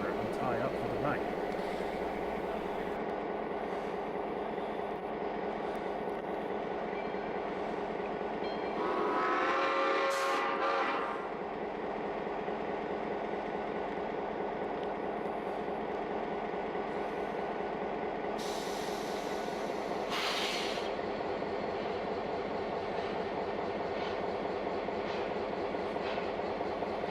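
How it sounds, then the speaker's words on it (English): Locomotive number 93 of the Nevada Northern Railway rumbling through a rail yard toward the engine house, a steady low drone with a brief louder hiss near the middle and faint higher squeals later. "number 93 can be seen making its way through the yard as it heads for the engine house where it will tie up for the night"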